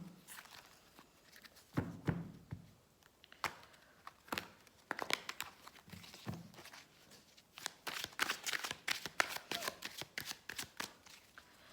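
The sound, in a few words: shuffling and drawing Rider-Waite tarot cards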